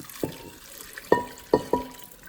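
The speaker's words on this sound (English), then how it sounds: "pour that over the rice just to cool it down a little." Water poured over cooked rice in a pot to cool it, with splashy gushes arriving in several short bursts against a quiet background.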